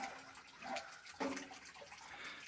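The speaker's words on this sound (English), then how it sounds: "I'm letting all that soapy water drip out, so when I do my rinse cycle, there's not as much soap in there." Soapy water drains from a washing machine before the rinse cycle, a quiet gurgling and trickling flow with a brief splashy surge midway, heard alone without speech.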